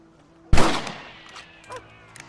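A single loud rifle shot in Red Dead Redemption, a sharp close crack with a rolling echo trailing off, followed by faint scattered clatter.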